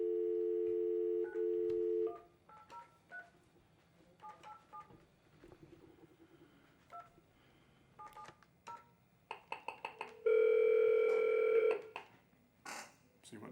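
A telephone call is placed: a dial tone, a series of quick touch-tone dialing beeps, then a long ringback tone, with faint talking in between.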